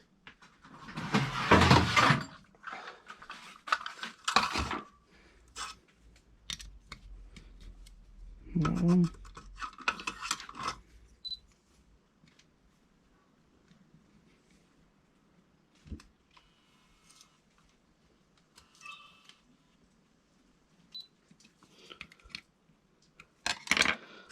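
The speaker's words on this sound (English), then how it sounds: "let me grab the Allen keys" Metal Allen keys rattle and clink as someone rummages through a toolbox for them, with a loud jangle at the start and another burst midway, then sparse small clicks and taps against a quiet background.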